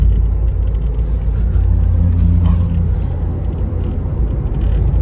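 A car engine hums in a steady, loud, low rumble while the vehicle is driven during a first driving lesson, with no talking over it.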